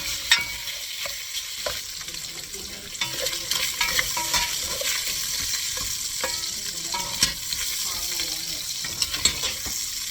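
Garlic pieces and beef sausage frying in a pot for a chicken and sausage corn gumbo, with a steady crackling sizzle and repeated scraping stirs and utensil clinks close up throughout.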